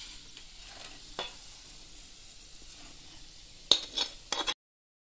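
Vegetables and cooked noodles tossed together in a pan for cheesy noodles, giving a soft steady sizzle with a few scraping stirs, then a louder burst of clinking and tossing near the end before it cuts to silence.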